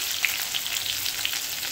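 Chopped onion sizzles steadily in hot oil in a pan for poha, a dense bright frying hiss with a few small pops, close and continuous with no talking.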